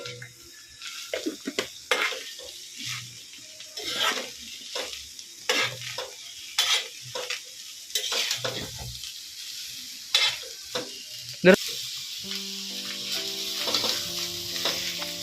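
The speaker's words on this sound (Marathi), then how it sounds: "आता हे बघा अजूनही आम्ही फ्रायच करतोय" Sweet corn kernels and coconut frying in a pan for a corn chaat snack, with repeated scraping strokes of a spatula over a steady sizzle that grows denser toward the end.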